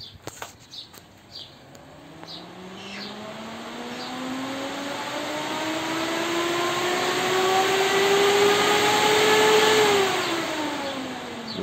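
A car's fan motor whirs and steadily climbs in pitch as it spins up, the whine rising for several seconds before tapering slightly, with no talking.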